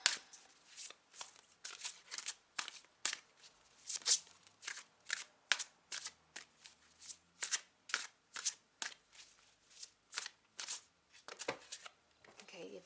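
Tarot cards are shuffled close up in a steady run of soft, papery riffles and slaps, repeated rhythmically for several seconds at low volume.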